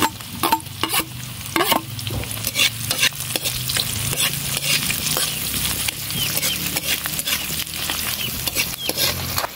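Garlic sautéing in annatto oil in a pan, a steady close sizzle broken by repeated scraping strokes of a stirring utensil in an irregular rhythm, with no talking.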